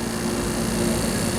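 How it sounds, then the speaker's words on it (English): A vacuum pump evacuating a car air conditioning system being converted from MP39 to R-134a, a steady, even mechanical drone with a low hum throughout. "Vacuum pump sound is pretty quiet."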